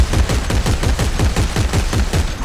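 Rapid, steady bursts of gunfire from a weapon in the Dead Space 3 video game, a regular rattling train of shots filling the whole stretch at close range with no talk over it.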